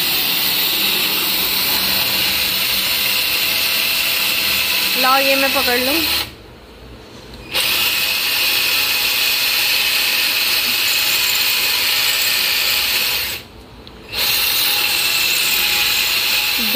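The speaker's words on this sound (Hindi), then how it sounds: "तो ये अभी ड्रिल हो रहा" A power drill bores into a house wall with a loud, continuous whine that cuts out twice for a moment, while people talk nearby.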